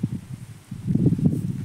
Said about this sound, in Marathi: ते झाडाच्या फांद्या हलताय ना, तर आवाज येतोय वाऱ्याने